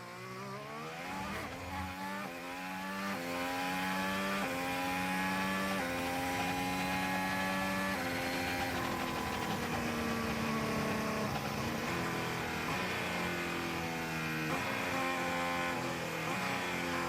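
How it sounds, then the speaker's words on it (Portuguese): A Formula 1 car's engine revs and climbs through gears at the 2019 Italian Grand Prix qualifying at Monza, a shrill high-pitched scream rising and dropping repeatedly, heard from a distance and alone. "O cara vai dando o motor, vai enchendo"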